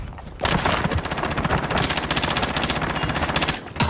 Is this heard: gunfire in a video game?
yes